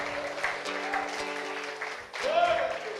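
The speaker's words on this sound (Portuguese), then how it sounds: "Dê uma linda salva de palmas a Jesus Cristo" Church congregation clapping in praise of Jesus Christ during a Portuguese-language worship service, a soft, steady patter of many hands beneath sustained tones and a voice.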